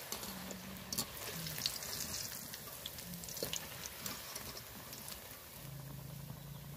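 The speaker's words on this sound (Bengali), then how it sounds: "এইভাবে আমি সবগুলো পকোড়া ভেজে নেব।" Pakoras frying in hot oil, a steady dense crackling sizzle running throughout at moderate level, with a few brief clinks and stirring sounds near the pan.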